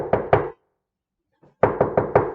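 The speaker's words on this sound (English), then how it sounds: "How would you make the sound of someone knocking on a door?" Knuckles knock on a hard surface, like a door: two sharp knocks, a short silence, then four more in a quick even row, close and clear.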